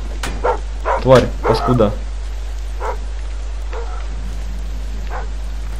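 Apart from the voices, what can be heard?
dogs barking in the video game Thief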